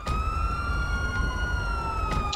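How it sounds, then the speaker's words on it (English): A police siren in a video game wails in a steady, sustained tone, loud and close, with faint clicks underneath and no talking. "You get the siren shut off, please."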